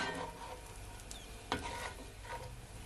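Fried rice being stirred in a pot, soft scraping and sizzling close by with one sharper clank midway, quiet and steady with no talking.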